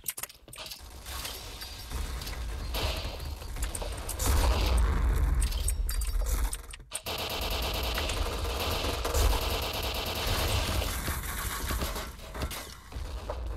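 Gunfire in the Point Blank shooter video game, dense bursts of rapid shots and mechanical clatter over a loud, busy mix, with a brief drop out midway.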